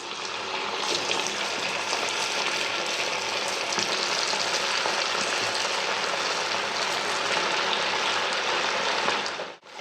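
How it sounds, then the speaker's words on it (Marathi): Sabudana vada frying in very hot oil, a steady, dense sizzle close up that continues evenly throughout without talk. "आता हे वडे मी वरून खरपूस होईपर्यंत तळून घेणार आहे"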